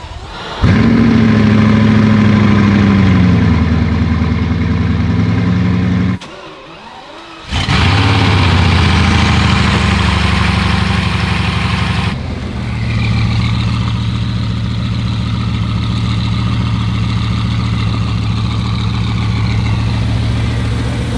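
Several car engines idle and rev loudly and close by while cars are shuffled out of the way to get a Bugatti Veyron out, with a brief cut in the sound partway through and a steadier, lower idle later.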